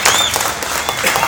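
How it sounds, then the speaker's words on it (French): Steady audience applause at a public demonstration fills the space, a dense wash of many hands clapping at moderate loudness, with faint crowd voices mixed underneath. "on va applaudir"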